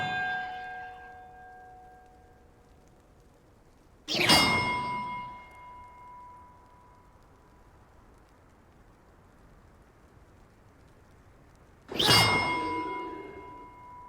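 Two bells ring out in the video game Hogwarts Legacy, each a sharp metallic clang with a long ringing decay, struck several seconds apart against quiet background.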